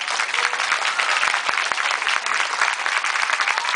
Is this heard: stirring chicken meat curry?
no